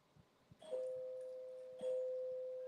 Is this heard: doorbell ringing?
yes